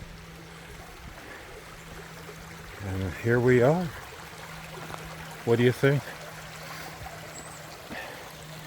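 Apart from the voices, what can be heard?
flowing creek water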